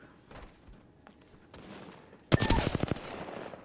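A sharp burst of rapid automatic gunfire from the Apex Legends video game erupts loudly partway through, following quieter in-game ambience and scattered faint shots.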